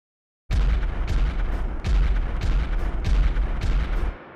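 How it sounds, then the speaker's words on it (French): Rare rotary engine running on a 25-to-1 oil mix and spitting out still-exploding exhaust gas, a loud continuous roar broken by sharp cracking bursts that cuts in abruptly and stops after about three and a half seconds, with no voices. "le cycle rotatif éjecte le gaz alors qu'il est encore en train d'exploser"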